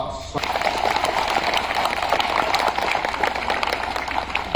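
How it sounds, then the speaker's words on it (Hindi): An assembled crowd at a Catholic diocesan gathering claps to welcome a visiting church official. The applause starts abruptly after a brief pause and continues as a full, steady patter, fairly loud and close. "आइए हम उनके स्वागत में तालियों से हम उनका"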